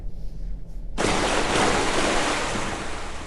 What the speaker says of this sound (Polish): sorry, że tak ta woda jest taka głośna